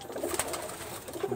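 A Giribaz pigeon gives soft, low coos in quick short bursts, close but faint, with no talking over it.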